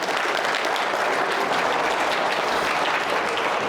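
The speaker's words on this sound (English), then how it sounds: "So can we give a big round of applause to all of you?" A big, dense round of applause from a conference audience, loud and continuous throughout with no gaps or voices.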